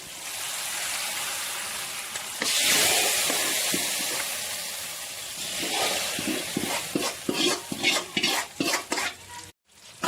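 Mackerel curry with ground coconut in a pan, a mixture poured in with a rushing hiss, then soft sizzling and a run of rhythmic stirring scrapes growing more distinct toward the end.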